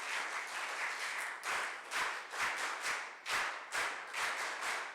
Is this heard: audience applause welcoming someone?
yes